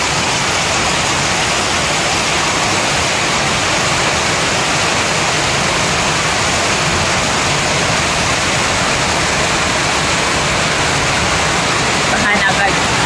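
Floodwater rushes through a street in Luzon during a heavy tropical downpour, a loud, unbroken wash of noise that stays steady throughout.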